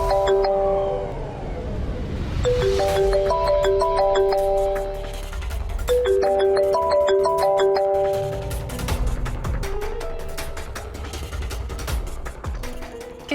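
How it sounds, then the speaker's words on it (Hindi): A melodic electronic ringtone plays its short tune over and over, clear and fairly loud, with no voices. "किसका फोन आ रहा है सुबह सुबह?"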